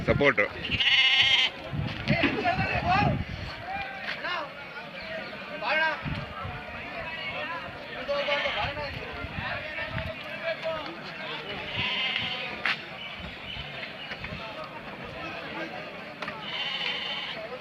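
Sheep bleat repeatedly at a busy livestock market in Tumkur, the calls coming from several animals at varying distances amid steady crowd chatter and general market bustle.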